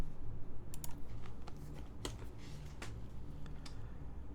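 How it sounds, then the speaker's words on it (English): Typing on a prototype mechanical keyboard fitted with ABS triple-shot keycaps: steady, close clacking keystrokes in an irregular rhythm, with a low hum in the background. "So these are ABS triple shot keycaps."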